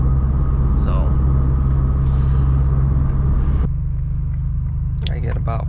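A Lexus IS 200t fitted with an axle-back exhaust rumbles with a deep, steady low drone, close by and under a person talking, with the tone shifting slightly partway through.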